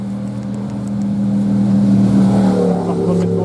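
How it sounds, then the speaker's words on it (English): Several motorbikes pass by on a road beside a stone wall, their engines a steady, rising drone that swells louder toward the middle and stays near, under a little background talk. "Lots of motorbikes."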